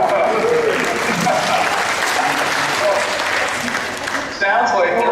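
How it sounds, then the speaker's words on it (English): Loud, sustained applause from a live audience at a university event in Auckland greeting Alex Bogusky, a thick continuous clapping that briefly dips near the end while voices mingle in. "Sounds like there was some applause."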